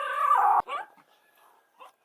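A dog whimpers and yips in short high whines, a sustained cry that cuts off abruptly, followed by a brief fainter whimper and a soft yip.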